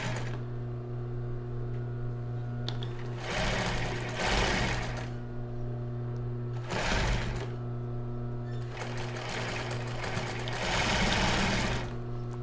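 A sewing machine zigzag-stitches a bra in three bursts of rapid mechanical chatter, separated by pauses where only a steady motor hum remains, with backstitching at the start and end of the seam.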